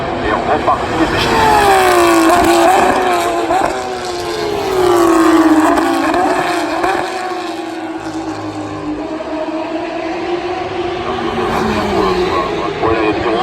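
Race cars at the Le Mans 24 Hours scream past close by, engines rising and falling with Doppler sweeps as several pass in succession, loud, with a commentator talking over the roar.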